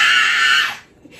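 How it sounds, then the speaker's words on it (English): A person shrieks very loudly during a family Twister-style party game night, one sustained piercing scream that cuts off abruptly, leaving brief quiet with a small noise after. "And scream really loud for 10 seconds."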